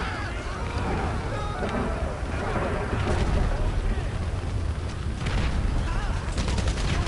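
A grenade blast and scattered gunfire erupt in a GTA Online street fight, dense rumbling explosions and crackling shots layered over a steady low roar, loud and close throughout.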